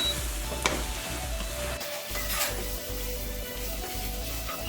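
Masala chicken frying in oil in a pan, stirred steadily: a continuous close sizzle with soft scraping strokes and a brief dip partway through.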